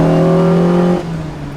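A Lotus Exige S1 lightweight sports car engine holds a loud, steady mechanical drone, then drops abruptly to a lower idle about a second in.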